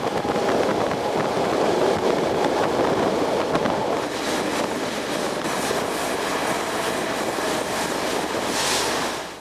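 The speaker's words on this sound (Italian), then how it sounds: "Il treno si muove verso la quarta stazione, che fa sempre parte del tratto cosiddetto superficiale." A Rome Metro Line A subway train runs between stations on a surface section, giving a steady, loud rumble and rushing roar with faint rattling throughout, no voices.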